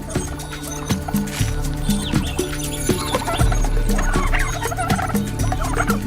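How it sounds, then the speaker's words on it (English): Brush turkey calling in repeated gobbling, clucking bursts over a dense, steady layer of background music or ambience, fairly loud throughout with no voices. "Brush turkeys are vulnerable and only defend themselves when in grave danger."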